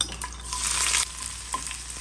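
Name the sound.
mustard seeds, chillies, garlic and curry leaves frying in oil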